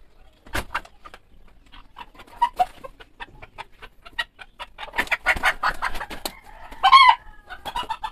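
Backyard chickens clucking in a cage as a rooster is paired with a black hen; several bursts of clucking and calls come close and fairly loud, with a louder squawk near the end.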